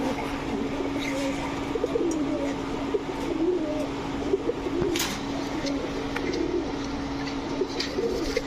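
Golakosha pigeons coo in a low, steady, droning murmur that continues throughout, with faint background clatter and no talking.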